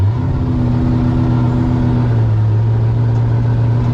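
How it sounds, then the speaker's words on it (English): A turbocharged 5.3 V8 engine in an Oldsmobile Cutlass revs steadily and loudly, holding a strong droning tone that dips slightly partway through, with no pauses. "You can hear that turbo"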